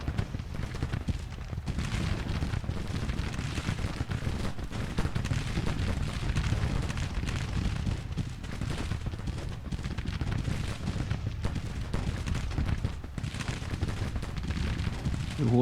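Civil War battle in the strategy game Grand Tactician, with musket volleys and artillery blending into a dense, continuous rumble of crackling shots and low booms that never lets up.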